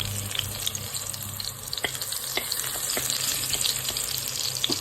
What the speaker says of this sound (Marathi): याच्यामध्ये आता लसूण टाकून घ्यायचं।